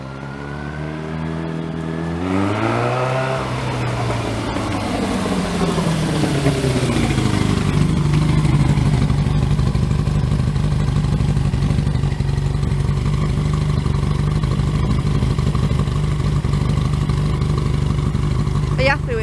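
A Thunderace motorbike fitted with newly installed carburettors runs close by with a loud exhaust, rising through a rev at the start and then settling into a steady, rough idle.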